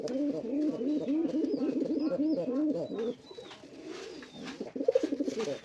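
Male Deshi Rasgolla pigeon, an old red strain, cooing in a repeated rolling rhythm, close and clear, with a brief pause and then softer coos resuming.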